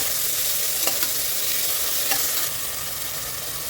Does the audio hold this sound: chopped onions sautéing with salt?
yes